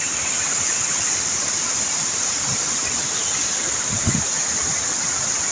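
Steady, loud rushing water roars continuously from Little Baguio Falls in Bacuag, Surigao del Norte, Philippines, a dense broadband wash close by, with no pauses.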